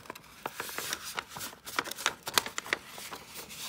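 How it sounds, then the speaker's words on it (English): Paper is handled and folded in half for a drawing project, giving a close, rapid series of crisp rustles, creases and flicks that come in irregular bursts with no talking. "fold your paper in half"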